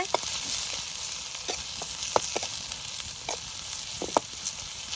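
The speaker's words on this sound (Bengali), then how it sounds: "ভালো করে নেড়ে চেড়ে এটা ভেজে নিতে হবে।" Potatoes frying for aloo dom, a steady hiss of sizzling oil close by, punctuated by sharp scrapes and taps as they are stirred in the pan, no talking.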